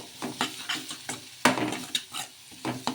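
A spoon stirs a gobi manchurian mixture with garam masala in a hot pan, giving a string of close, sharp scrapes and knocks with light sizzling between them.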